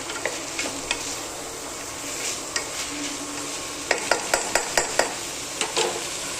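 Crushed peanuts and coconut fry in oil in a pan for moong misal, a constant close sizzle broken by a rhythmic run of spoon clicks and scrapes against the pan.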